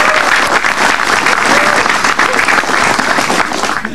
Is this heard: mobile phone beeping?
no